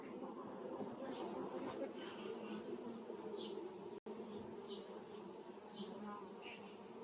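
Honeybees buzzing at a hive in a spring colony with eggs in the comb, a steady close drone with individual insects passing near, continuous throughout apart from a momentary dropout.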